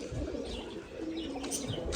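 Faint, distant pigeon coos drift through a sunny afternoon outdoors, soft and intermittent against a steady low background with no talk.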